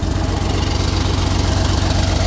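A Caterpillar CAT320B excavator engine idles close by, a loud, steady low diesel rumble with an even throbbing pulse and no break, nothing else heard over it.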